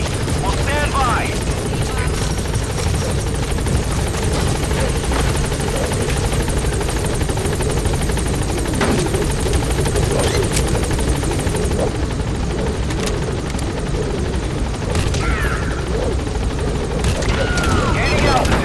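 Pequod, the transport helicopter in Metal Gear Solid V, arriving at the landing zone: a loud, steady rotor roar fills the whole stretch, with occasional sharp bursts and muffled voices beneath it.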